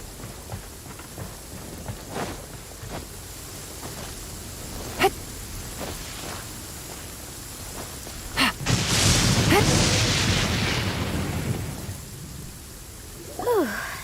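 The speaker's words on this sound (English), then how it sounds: "It's raining again?" Rain falling in the video game Genshin Impact, a steady hiss of rainfall with scattered sharp impacts and a swelling rumble of thunder partway through; a voice speaks briefly near the end.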